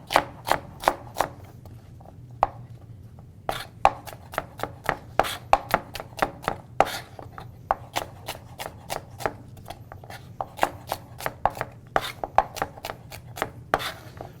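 Knife slicing turnips and rutabaga for roasting, a rapid series of sharp, close chopping taps on a cutting board with brief pauses between bursts, no talking.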